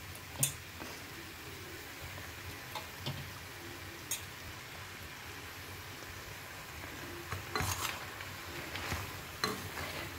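Mushrooms sizzle softly in a frying pan for a Thai yellow curry, with a faint steady hiss and a few sharp clicks and scrapes from stirring; no speech.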